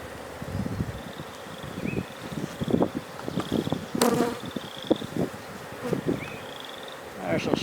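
Honeybees buzzing around an open beehive during an inspection in May, with a steady drone and some louder passes near the microphone, plus occasional rustling and clicks from frames being handled.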